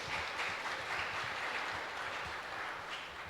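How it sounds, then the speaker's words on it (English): Steady applause from an oratorical contest audience fills the whole stretch, dense clapping at an even level with no voices on top. "Please give her a round of applause."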